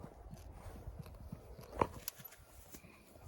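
A mare's hooves plod slowly over the ground in soft, uneven thuds, fairly faint, with one sharper knock partway through.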